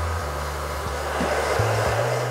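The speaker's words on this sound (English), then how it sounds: "Now the blow dryer is going to blow away any extra product" A blow dryer runs steadily with a constant airy roar and low hum, its pitch shifting slightly a few times; no voices.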